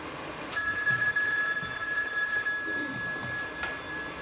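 A telephone bell rings once in an office, a bright sustained metallic trill lasting about two seconds before fading out.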